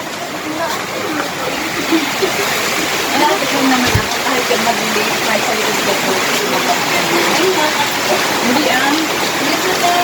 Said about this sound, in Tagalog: Nako, ay umuulan na naman nga